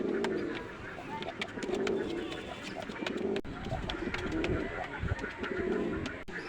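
Pakistani teddy pigeons, a golden male and female among them, give soft, low cooing calls repeatedly, close by, alongside fluttering and background noise.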